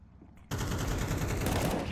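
Pistol gunfire in an esports shooter video game bursts in abruptly after a brief quiet moment, then continues as dense, rapid, overlapping shots and game effects at steady high loudness.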